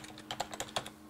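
Quick, light taps on a computer keyboard, a short burst of about eight keystrokes, close and fairly quiet.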